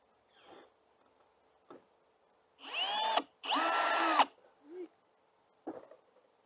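A power drill driving screws into a wooden bluebird house on a bench, with two loud whirring bursts a little over a second each, framed by shorter faint taps and handling clicks.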